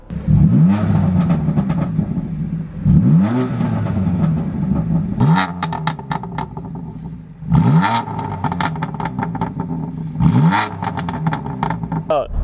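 A 2017 BMW M3 Competition exhaust in Sport Plus mode revs repeatedly, each blip rising sharply and falling back in a loud, close, rhythmic pattern, with a voice talking over it.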